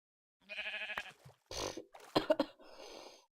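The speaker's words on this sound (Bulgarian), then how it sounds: "Овца." A sheep bleats several times outdoors, a wavering nasal call followed by rougher, breathier bleats, fairly close and clear with no talk.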